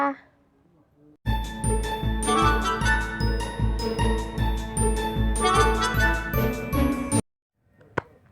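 A bright notification bell jingle rings out loud and sustained, a rapid cascade of tinkling chimes over a steady pulsing beat, followed by a brief single ding after a pause; a voice speaks faintly before it.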